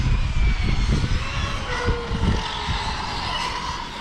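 A radio-controlled car's electric motor runs steadily with a droning whine that rises and falls slightly, fairly loud and continuous throughout, its pitch sliding around the middle.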